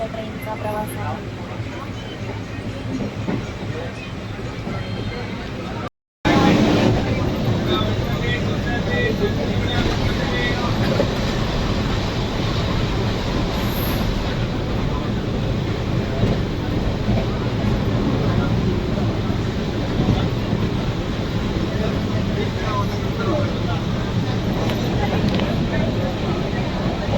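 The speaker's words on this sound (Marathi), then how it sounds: "हा असा माझा ट्रेनचा प्रवास आहे." Steady rumble and rattle from inside a moving train on a short passenger journey, a constant loud roar that continues throughout except for a brief dropout, with a voice speaking over it at times.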